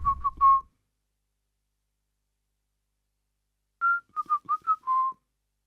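A person whistles a short tune: a brief trill of three notes, then a long silent gap, then a quick run of five or six notes, clear and close with nothing else heard.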